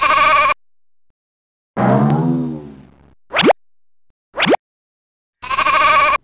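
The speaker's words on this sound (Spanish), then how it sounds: "En un lejano país existió hace muchos años una oveja negra." A sheep bleats several times in short separated calls, loud and close, with silent gaps between them and a few brief springy plopping effects mixed in.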